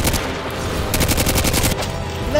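Rapid automatic fire from an ACR rifle in the game Garry's Mod, a loud, close burst of evenly spaced shots that runs almost continuously, with no talking over it.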